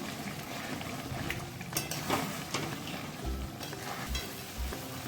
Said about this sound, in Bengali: এই কড়াইয়ের মধ্যেই আস্তে আস্তে কষতে থাকবো